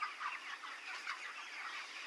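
Chickens cluck softly and continuously on a poultry farm holding about a thousand 25-day-old birds, a faint, busy chorus of overlapping calls with no talk.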